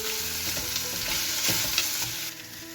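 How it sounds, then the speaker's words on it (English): Onion, spring onion and chicken sauté in a pot with little oil, a dense continuous sizzle close by with soft stirring scrapes and light clinks throughout, no speech. "as well as the onion. Now let's saute this."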